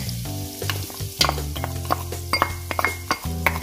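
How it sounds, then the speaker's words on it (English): Onion, celery, garlic and carrots sauté in butter in a pot for lobster bisque, a steady close sizzle broken by frequent scraping stirs and light metallic clinks of utensil on pot, with soft music underneath and no talk. "I'm just going to go ahead and let that saute."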